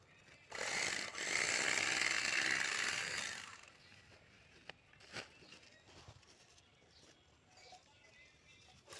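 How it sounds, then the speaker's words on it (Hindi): A sack of vermicompost organic fertilizer is stitched shut by machine, a loud rattling mechanical buzz running for about three seconds, then fading to quieter ambience with a few scattered clicks. "ये बोरी की सिलाई हो रही है, इसमें जैविक की खाद है।"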